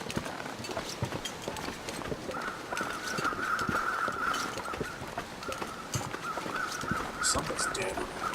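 Crows caw repeatedly in the snowy wilderness of The Long Dark, harsh calls coming in bursts over a crunching, shuffling footstep-like background, moderately close.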